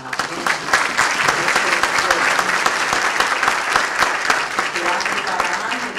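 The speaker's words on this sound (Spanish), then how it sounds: "vamos ahora a pedirle un aplauso a la gente" Full conference audience applause following a lecture by a presiding judge: sustained, crowded clapping with sharp individual claps poking through, fairly loud and even throughout, with faint voices mixed underneath.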